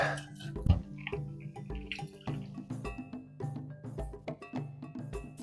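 A cocktail shaker is worked hard with a tequila drink and a large pour of sweet and sour mix, giving close, busy metallic clinks and rattles in a quick, uneven rhythm with no talking.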